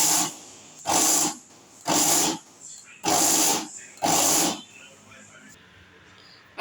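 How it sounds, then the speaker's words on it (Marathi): A kitchen mixer grinder blends peanut chutney in five short, loud whirring bursts about a second each, separated by brief pauses, then goes quiet. "आता मिक्सर मधून सावकाश फिरवून घेऊत।"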